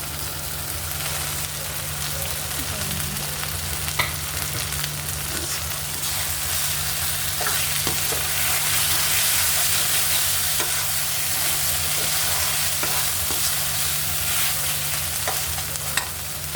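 Tomato fries and is stirred in a pan, giving a loud, steady sizzle with repeated scraping strokes and occasional clinks across a long stretch, close by and with no talking.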